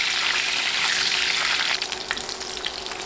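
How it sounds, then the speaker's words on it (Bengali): Boiled eggs fry in hot oil in a pan with steady, loud sizzling and crackle while constantly stirred, a dense hiss that eases slightly after midway. "এবার অনবরত নেড়ে নেড়ে ডিম ভাজবো, নাড়া কিন্তু বন্ধ করা যাবে না।"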